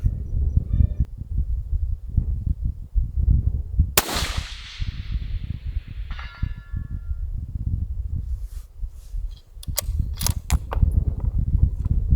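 A budget rifle fires once at an outdoor target, a single sharp loud crack with a trailing ring, set against a constant low wind rumble, followed later by faint mechanical clicks.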